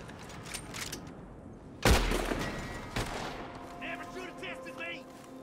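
Enemy gunfire in the video game Red Dead Redemption 2 comes as one sharp, loud shot, then a weaker second crack a second later. A low rumble and faint background game sounds follow.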